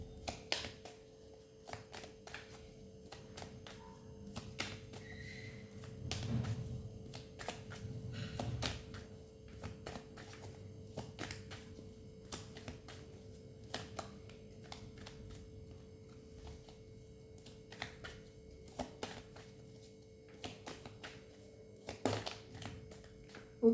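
Tarot cards being shuffled for a reading, giving soft, fairly quiet riffling and tapping bursts that recur irregularly over a steady low hum, with no speech.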